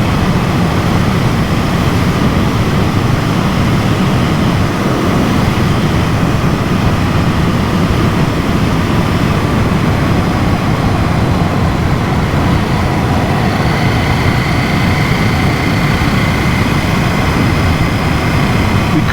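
KTM 790 Duke motorcycle engine held at 2,500 revs in 5th gear around 35 mph, a steady, continuous low drone with broadband wind rush and no break throughout.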